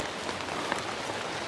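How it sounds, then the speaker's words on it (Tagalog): Heavy rain pours steadily onto surfaces outdoors, a dense even hiss with no talk. "parating na talaga ang malakas na ulan."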